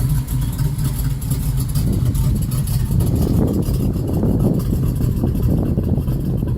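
A 1979 GMC K5 Jimmy truck idles at a slightly low idle, a steady, loud, close-up engine rumble that holds constant throughout with no talking.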